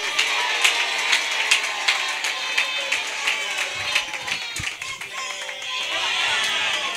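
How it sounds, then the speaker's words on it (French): An audience at a French-language stand-up comedy show claps and cheers to welcome the next comedian. The applause is brisk and sustained throughout, with scattered sharp claps and crowd noise. "j'aimerais ici que vous puissiez applaudir pour celui qu'on appelle Berly la Muse alias Aiglé"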